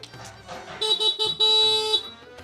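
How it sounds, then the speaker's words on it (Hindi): A motorcycle horn honks in a string of short, bright beeps and then one longer blast, loud and close, with faint voices just before it. "मोटरसाइकिल का हॉर्न बजा दिया।"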